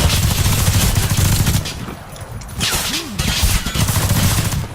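Gunfire from the first-person shooter Warface: dense, loud bursts of automatic shots rattle nearly throughout. A brief quieter pause midway carries a short rising tone before the shooting resumes.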